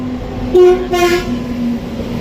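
A train passes nearby with a steady rumbling hum, and a short horn-like toot rises briefly in the middle.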